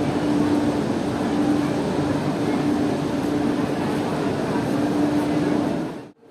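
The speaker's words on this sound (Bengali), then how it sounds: "এটা শিয়ালদা স্টেশনের 13 নম্বর প্ল্যাটফর্ম।" Steady loud roar of a railway station at Sealdah platform 13 in Kolkata, with constant rumbling train and crowd noise and a faint sustained tone running throughout, ending abruptly.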